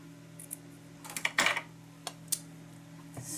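Scissors snip through fine netting with several crisp, close cuts at an irregular pace, heard alone over a faint steady hum.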